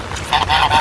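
Geese on a rain-soaked village roadside in rural Bangladesh give a loud, close run of repeated honks that follow one another with barely a pause.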